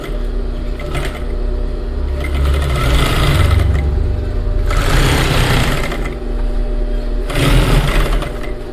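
A sewing machine runs continuously and close by, joining the upper and lower pieces of a flared skirt, its steady mechanical whir swelling slightly in a few surges.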